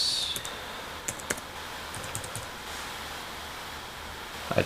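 Someone types a password on a computer keyboard, producing a few soft, scattered key clicks and taps over a steady background hiss, close by and fairly quiet.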